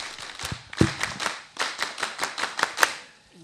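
A group performing the rhythmic Pramuka scout clap, a brisk patterned series of sharp, close handclaps with short pauses between phrases, alone without talking.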